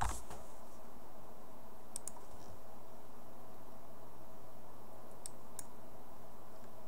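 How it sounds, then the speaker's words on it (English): A few quiet clicks on a computer keyboard while working in QuickBooks 2012, two short bursts of keystrokes separated by near silence over a faint steady hum. "you're going to type manual"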